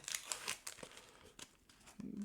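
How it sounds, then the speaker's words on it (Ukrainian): A Panini football sticker packet, Chelsea vs PSG, crinkles and tears open close up in a run of quick crackling rustles and short rips, with a brief low voiced murmur near the end. "так, відкриваємо перший пакетик"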